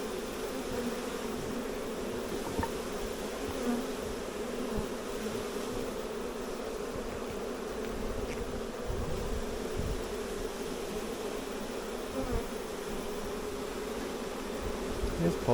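Honey bee swarm gathered on a fruit-laden tree branch, producing a dense, continuous buzzing drone that stays steady and close throughout, with no talking.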